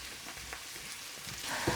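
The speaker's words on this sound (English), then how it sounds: "I'm now going to throw in the whole cashew nuts and just fry them for around a minute." Whole cashew nuts frying in onion masala for a black pepper chicken curry give a faint, steady sizzle, soft crackles popping now and then, with a slightly louder spatter near the end.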